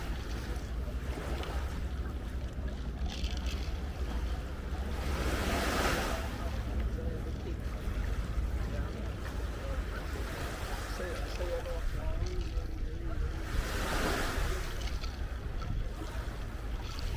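Surf rolls onto a long beach at a large Jamaican resort, with two broad wave washes swelling and fading over steady wind and ocean noise.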